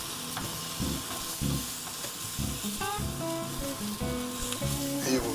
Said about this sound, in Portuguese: Deitar então agora o molhinho por cima, aquele molho que se fez no início.